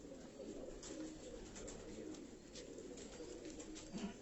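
Pigeons belonging to a Karachi breeder coo softly on a city rooftop, a steady low murmur of several birds running throughout, fairly quiet and continuous.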